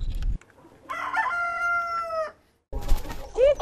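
On a family farm, a rooster gives a long, loud cock-a-doodle-doo. Clucking chickens and other farmyard noise can be heard before and after the crow.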